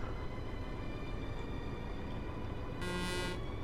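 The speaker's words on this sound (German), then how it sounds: "Ja, das war die Hupe gewesen." A truck horn in Euro Truck Simulator 2 gives one short blast near the end, sounding over a steady, loud engine and road drone.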